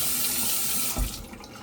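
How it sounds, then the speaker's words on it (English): Water runs steadily from a shower in a nearby room, a broad continuous hiss that holds level, then briefly swells with a low thump about a second in before settling back. "My daughter decided to take a shower while I'm making this video, so you probably hear that."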